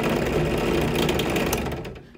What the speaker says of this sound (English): I'll go ahead and fire it up real quick and let you just kind of see. It's got a lot of rattle right now